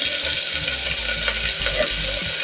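Green chillies, curry leaves and carrot fry in a pan with an even, continuous sizzle and crackle, close and fairly loud, with no talk.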